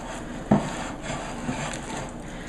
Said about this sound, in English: put the dough in, rub it all around